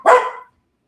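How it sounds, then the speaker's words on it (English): A single sharp, loud dog bark rings out close by and stops abruptly, followed by silence. "I've got dogs that are barking next door,"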